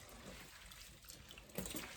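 Dry Irish moss being washed by hand in a basin of water, making a faint, soft sloshing and trickling that swells briefly near the end, with no talking.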